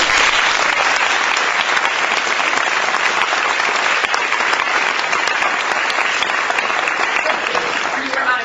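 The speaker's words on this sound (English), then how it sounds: "Would you please join me in another round of applause for all the recipients?" Loud, dense applause from an audience at an awards ceremony, a continuous roar of many hands clapping that holds steady for about eight seconds before easing slightly at the close.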